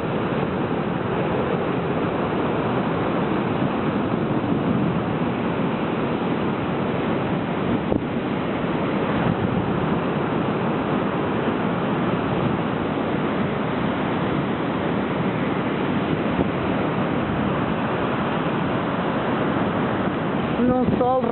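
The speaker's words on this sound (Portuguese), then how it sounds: "Ondas e espumas do mar são brancas como a neve" Sea waves break on the beach at Praia do Cabo do Mundo in Matosinhos, a continuous loud wash of surf with wind rumbling over it and no voices.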